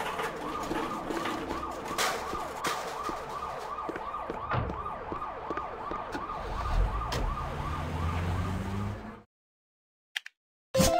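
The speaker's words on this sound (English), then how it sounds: "Ambulance." A wailing ambulance siren cycles steadily over a rumbling engine, then cuts off abruptly into silence, followed by a couple of faint clicks.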